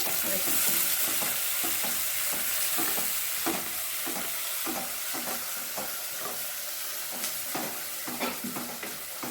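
Onions sauté in a hot pan, a steady frying sizzle broken by regular scraping stir strokes, close and fairly loud with no talking.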